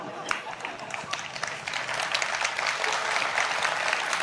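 Audience at a Hindi comedy poetry gathering (kavi sammelan) in Kasrawad breaks into dense, crackling applause that swells and grows louder, sustained throughout without pause.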